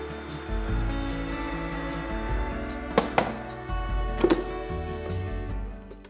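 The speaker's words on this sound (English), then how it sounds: "Blend on high until liquefied." A loud, steady blender whirring on high while blending cashews and water, a continuous dense roar with a few brief clunks and knocks partway through.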